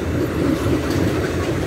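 Loaded freight train wagons carrying grain such as soy or corn roll past, a steady close rumble and rattle of rail cars with no clear breaks.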